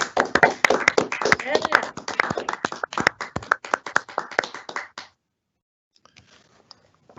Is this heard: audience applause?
yes